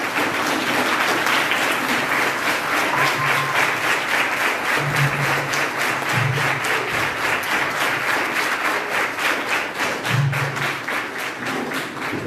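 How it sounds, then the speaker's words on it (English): Schoolchildren at a primary school seminar applaud together, a long, loud and steady roar of clapping with a rhythmic pulse, plus a few scattered thumps and brief voices underneath. "a big round of applause."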